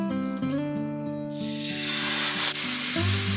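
Ragi and besan batter studded with onion, carrot and broccoli cooking in a pan on a low flame, its soft sizzle rising and filling in beneath steady background music.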